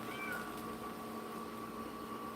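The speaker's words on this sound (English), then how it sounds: "I got a kitty cat that's meowing at me." A pet cat meows indoors, a short rising call near the start, fairly faint against a steady hum and background tone.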